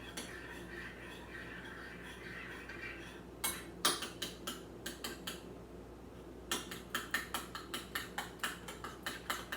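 Sauce for asparagus being mixed in a bowl, quick rhythmic clinking of a utensil against the sides in two bursts of fast regular strokes, close and clear over a quiet room.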